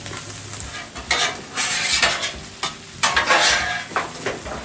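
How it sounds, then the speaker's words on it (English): Cold rice is stir-fried in a hot pan, with a constant sizzle broken by repeated scraping, tossing strokes of a utensil against the metal, loud and close, with no voices. "dump that rice in there. Cold rice."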